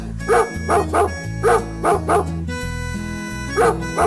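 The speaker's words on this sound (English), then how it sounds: "Dog," A dog barks about eight times in short, evenly spaced, loud yaps, heard over a light background music track.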